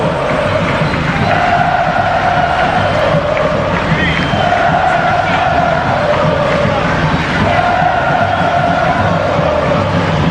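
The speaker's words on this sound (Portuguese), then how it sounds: "você está ouvindo a torcida do Santos. Sinta o clima da Vila Belmiro" Santos football supporters roaring at the Vila Belmiro stadium during a Copa do Brasil match against CRB, a dense, loud and continuous crowd din with swelling chant-like tones throughout.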